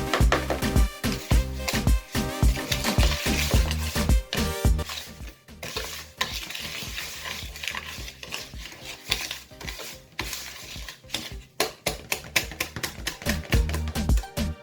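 Chin-chin dough being stirred and mixed with butter in a bowl, giving a steady run of close, dense scraping and clicking strokes with no talk.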